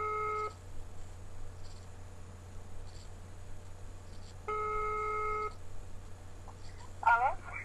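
A ringback tone purrs twice on a phone line, a short burst at the start and a longer one a few seconds later, with quiet line hiss in between and a faint voice briefly at the end.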